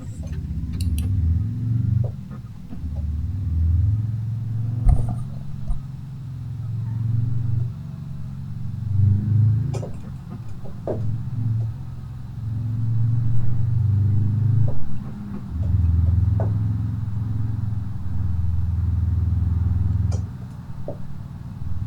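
A car engine in BeamNG.drive, played with a clutch and gear shifting, gives a steady low rumble that rises and falls as revs change through the gears, with brief dips between shifts and no talking.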